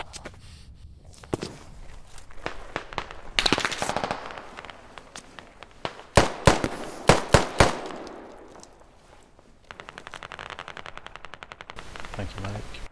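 Bursts of machine gun fire in the Squad military shooter during suburban combat, several sharp rapid volleys rising above footsteps and scattered shots, loud and close, with brief voice chatter nearby.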